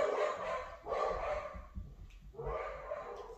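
Several dogs bark in loud, full bursts, with a pause between volleys before another round of barking starts up nearby.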